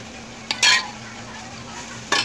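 Roasted semolina being stirred in a pan with cardamom powder and milk for suji barfi halwa: two short, sharp scraping and sizzling bursts of a spoon against the pan, set over a quiet, low background hum.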